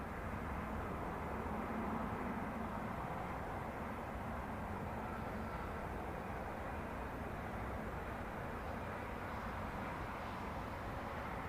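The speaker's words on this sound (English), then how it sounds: "Hier ist sie, Turkish Airlines A321 from Istanbul." A Turkish Airlines Airbus A321neo from Istanbul on final approach at Zurich Airport gives a steady, broad jet roar that holds evenly throughout, heard from a distance with no voices.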